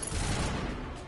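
Sustained gunfire in Mass Effect, a dense rumbling fusillade of rapid shots that blurs into a continuous low roar, moderately loud and steady with no talking.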